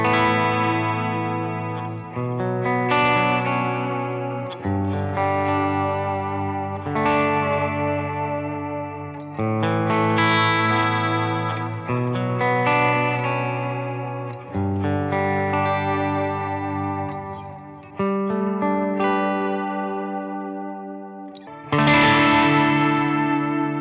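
Clean electric guitar run through effects with chorus, echo and slight drive, playing sustained chords and arpeggiated phrases that ring and decay over a steady rhythm, with no voices.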